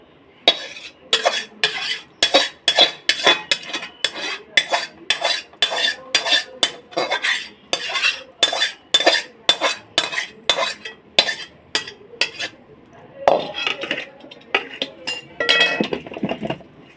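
A metal spoon clinks and scrapes repeatedly against a cooking pot as chicken is poured in with garam masala powder and water, sharp rhythmic knocks at close range with no talking.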